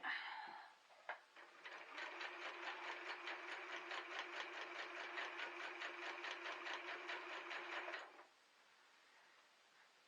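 A sewing machine finishes a seam on a baby quilt, running in a steady rapid stitching rhythm for several seconds, close and clear, then stopping abruptly, with faint handling noise before it starts.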